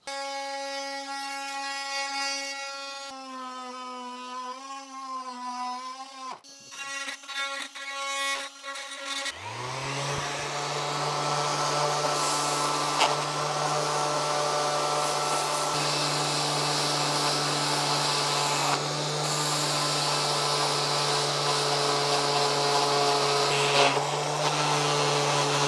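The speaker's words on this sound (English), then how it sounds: "we're just sanding this outside edge till it's going to be smooth" A steady motorized whir of a power tool sanding a plastic edge on a Harley-Davidson CVO Street Glide lid starts up partway through and runs loudly without letup, preceded by a wavering whine and a few clicks and knocks.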